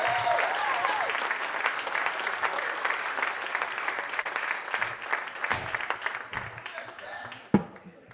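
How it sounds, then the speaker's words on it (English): An audience at a new venture competition finals applauds, a sustained wash of dense clapping with a few shouts, gradually thinning toward the end, where a single loud bump stands out. "Let's have another round of applause for John Henry"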